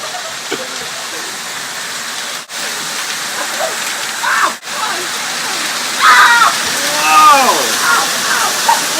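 A hailstorm in Cambridge, a dense, steady roar of hail pouring down onto surfaces close by, loud and continuous, with excited voices talking over it toward the end.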